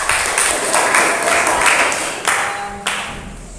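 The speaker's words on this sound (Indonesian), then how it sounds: "tepuk tangan untuk kelompok 4" A classroom of students claps together in a short burst of applause for a presenting group, the sound fading toward the end with a few scattered claps.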